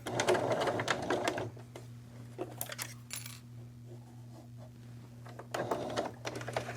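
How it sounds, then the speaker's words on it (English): A sewing machine runs a short back stitch on fabric with rapid clattering bursts at the start and end, a steady motor hum between them, and sounds close and fairly quiet. "I'm going to end with a back stitch"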